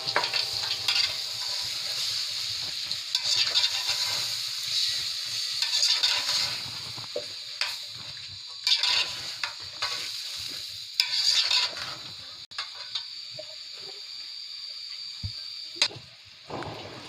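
Aloo kurma with turmeric and mixed spices being stirred in a pan, a steady sizzle with repeated scraping strokes of the spoon, close and moderately loud, no talking.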